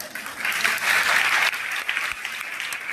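A congregation claps during a church sermon, a dense, steady burst of applause lasting about three seconds, fairly loud and heard on its own.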